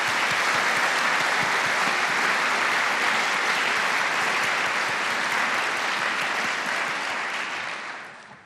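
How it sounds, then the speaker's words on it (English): Dense, loud applause from a large audience at a university state-of-the-address speech, steady and full for most of its length before tapering off at the end. "our enrollment and admission staff, faculty, support staff members, and students deserve a hearty round of applause"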